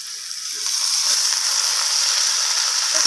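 Continuous oily sizzle of fenugreek greens frying with potato and eggplant in a pan, a steady bright hiss with faint clinks of stirring.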